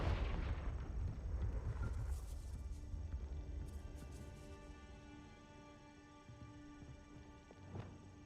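A Confringo explosion spell goes off in Hogwarts Legacy, a faint, rumbling blast with a long, noisy tail that slowly fades, plus a few scattered crackles.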